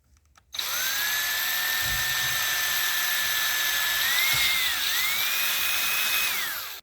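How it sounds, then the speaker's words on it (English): A power drill bores a test hole through the side of PVC pipe about 3/16 inch thick, a high whine that starts abruptly, holds steady, dips briefly under load and then stops. "So I'm going to go ahead and drill a test hole in the side of it."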